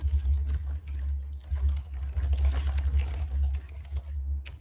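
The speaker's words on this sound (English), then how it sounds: "We were typing frantically." Rapid, frantic typing on a computer keyboard: quiet, dense keystroke clicks tumble over one another in an irregular burst over a constant low hum.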